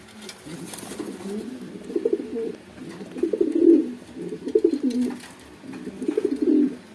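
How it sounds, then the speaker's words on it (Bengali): A pigeon coos close by in a series of soft, throaty, rolling calls, about five bursts separated by short pauses, with a quiet background. "কবুতরটা আসলে খুব সুন্দর এই যে ডাকতেছে দেখেন"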